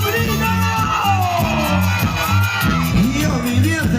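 A crowd of girls at a live show by a band shouts and whoops loudly over the band's steady rhythmic music, voices rising together in a sustained cheer.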